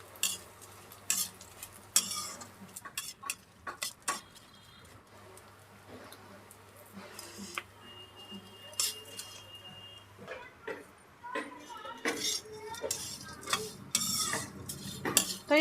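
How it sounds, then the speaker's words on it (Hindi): Edible gum (gond) roasting slowly over a low flame in a pan, heard as soft, irregular stirring scrapes and metal utensil clinks over a faint sizzle, close by and fairly quiet. "इसलिए धीमी धीमी आंच पे इसको भूनना चाहिए गोंद को।"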